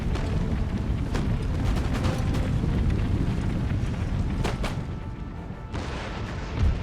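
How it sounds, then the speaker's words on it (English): Heavy cannon fire from a massed Empire: Total War battle, with dense overlapping booms and rumbling artillery volleys rolling continuously, loud and close, with a brief lull near the end before another blast. "Here come the cannons."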